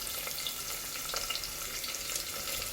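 Chopped onions sizzling in a pan for a beef curry, a continuous low hiss with small scattered crackles, fairly quiet and steady throughout.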